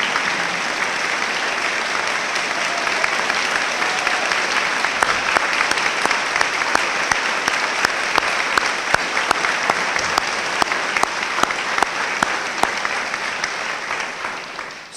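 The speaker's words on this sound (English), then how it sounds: "give you, particularly me as your president, a wonderful round of applause for all that you do for the school" Sustained applause from a college audience standing in a hall at a president's address, dense and steady throughout with individual claps popping out near the front.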